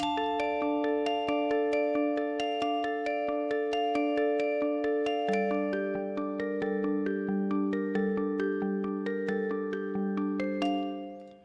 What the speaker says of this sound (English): so I went into Repro 5 and I just added these bells